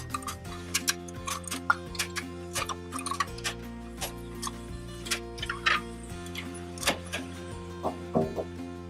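A ratchet strap is cranked tight with a ratchet tightening tool, giving a run of sharp, irregular clicks over a low steady hum, close and fairly loud.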